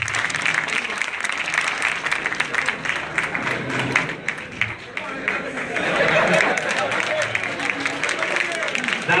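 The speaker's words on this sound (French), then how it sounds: "Et je vous demande d'applaudir cela" An audience at a Senegalese opposition platform meeting on election security applauds steadily, with crowd chatter and voices mixed into the clapping throughout.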